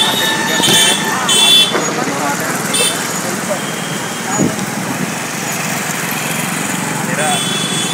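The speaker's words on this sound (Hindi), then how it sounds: "गाड़ी का ही ज़्यादा आवाज आता है क्योंकि हम रोड पर एक थर्ड ब्लॉक के चलते" Steady road traffic near a block of buildings on the way to a market, with buzzing light engines, passing vehicles and a few short horn toots forming a continuous, fairly close roar.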